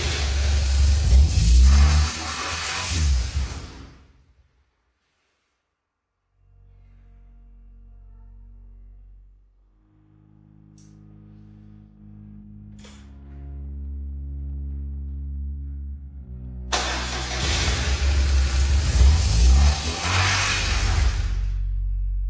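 A loud BMW R1200 motorcycle engine roars and revs in two bursts, one at the start and one at the end, separated by a quieter stretch of low rumbling.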